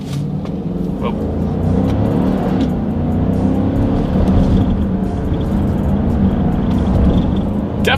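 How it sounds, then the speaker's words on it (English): A 2020 Dodge Durango accelerating hard down a straightaway during a paddle-shifter test, its engine a loud, steady roar that holds strong throughout with only faint hints of other sound. "Let's do a quick little paddle shifter test here first."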